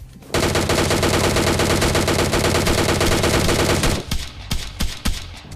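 Rapid automatic fire from a DP light machine gun in a battle-royale shooter, loud and sustained for about four seconds before breaking into scattered single shots.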